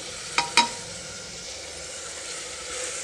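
Masala spices for paneer masala rice frying in a hot pan, a steady low sizzle running throughout, broken early by two sharp clinks from a utensil against the pan.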